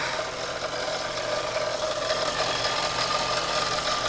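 A Mercedes E55 AMG engine idles steadily on a hot day with a low rumble and faint knocking, mixed with a whirring hum nearby, with no talking.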